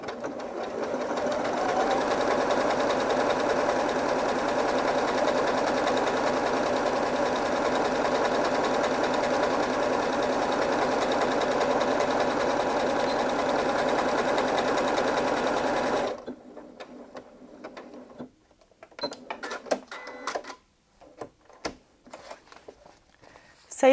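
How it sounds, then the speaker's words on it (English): A Janome Memory Craft 8200QCP sewing machine stitches a decorative satin pattern in one steady, rapid whirring run, stopping abruptly, followed by faint clicks and handling noises in near silence. "I'm going to stitch pattern 70. And I'll just stitch it out in the regular formation first"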